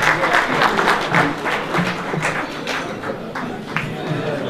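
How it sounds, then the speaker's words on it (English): Steady audience clapping fills the room at an inaugural conference as a company representative is called up, a dense, even patter of many hands holding throughout at moderate loudness. "A round of applause, ladies and gentlemen."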